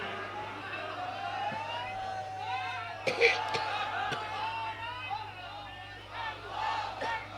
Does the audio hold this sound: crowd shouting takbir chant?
yes